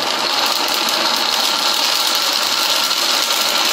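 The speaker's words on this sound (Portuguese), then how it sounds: "Mas eu vou bater mesmo assim." A blender whirs steadily, chopping popped popcorn for popcorn ice cream in a home kitchen, its buzzing motor loud, close and continuous for a few seconds with no talking.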